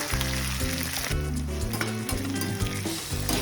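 Hot and sweet sauce sizzles steadily in a pan while chilli momo is cooked, a dense continuous frying hiss with chunky crackling throughout, and no talking.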